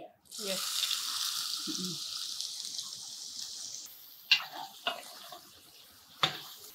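Soya chunks (meal maker) frying in hot oil: a steady close hiss and sizzle, with a few clinks of a utensil toward the end.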